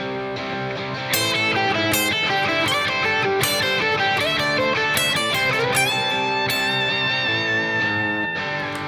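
An electric guitar plays a slow pentatonic lick over a full backing track, with sustained, bending distorted notes riding a dense, continuous band mix at steady, loud volume, and no talking.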